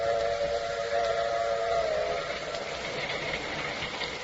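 A train rolls along as a radio drama sound effect, a continuous rumbling clatter with a steady whistle-like tone that fades out after about two seconds.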